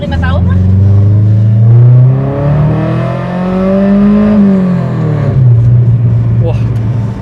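A Honda Civic with a B16 VTEC engine revs hard and close, its pitch climbing, holding high, then easing back down over several seconds.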